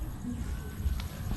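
A horse walks with a few soft hoof clops against a low outdoor background, and people talk faintly nearby.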